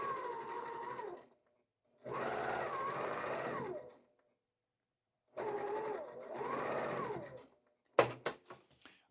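Sewing machine stitching quilt seams, running in two loud bursts of steady motor whir with needle chatter, separated by pauses of silence, followed by a few sharp clicks at the end.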